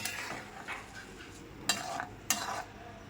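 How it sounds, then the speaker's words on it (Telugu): Mustard seeds and dried red chillies fry in sesame oil for a mango pickle, a soft low sizzle with a few light stirs and two sharper clinks of a utensil against the pan. "ఎండుమిరపకాయలు, ఆవాలు చిట్పట్లాడేంత వరకు వేయించేసుకోండి చక్కగాను"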